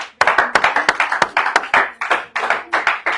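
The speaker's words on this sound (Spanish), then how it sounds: "dese un aplauso a usted mismo porque ha podido venir" A church congregation claps together in a brief round of scattered hand claps, close and fairly loud, with uneven rhythm and faint voices underneath.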